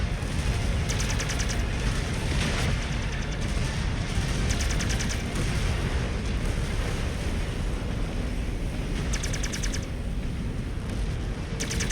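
Mech weapons firing in the video game Mechwarrior 5, a dense continuous barrage of blasts and rumbling impacts with repeated rapid bursts, loud and sustained throughout with no clear pauses.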